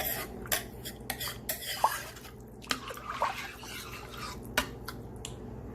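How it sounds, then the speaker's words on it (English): A spoon being rinsed in a home kitchen while making crock pot beef stew, with soft trickling water and a scattering of small metallic clinks and taps, faint and close. "let me rinse my spoon"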